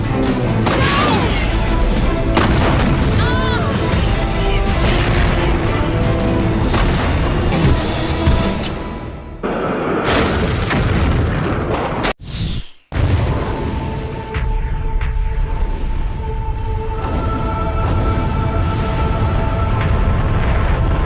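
Big explosions in the Resident Evil 3 video game, heavy booming blasts and crashing debris over a loud, continuous game soundscape, with a brief drop to near-silence midway before the rumble resumes.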